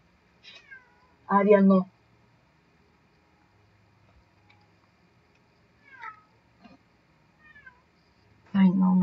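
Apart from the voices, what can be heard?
pet cat Ariel meowing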